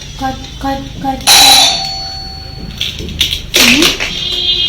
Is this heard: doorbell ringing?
yes